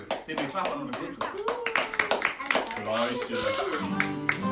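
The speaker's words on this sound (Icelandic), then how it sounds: "Þið megið klappa núna fyrir ykkur." Preschool children clap for themselves at a friendship gathering, uneven bursts of claps spread across the moment while children's voices and singing-like talk carry on over them.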